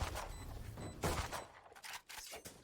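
Phantom rifle fire in a Valorant esports match, a burst of broadband gunshot cracks over dense game ambience, with further shot-like bursts trailing through the rest of the moment.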